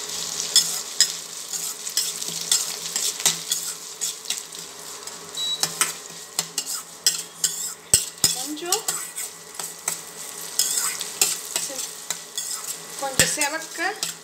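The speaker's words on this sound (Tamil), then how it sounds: "இந்த பூண்டு வதங்கினதுக்கு அப்புறம் இதுக்கு வெங்காயம் போட்டுக்கிறேன்." Garlic and then onion frying in oil in a pan for Tamil vatha kuzhambu, a steady close sizzle with a spoon stirring and scraping against the metal throughout, plus a few clinks and a brief spoken comment.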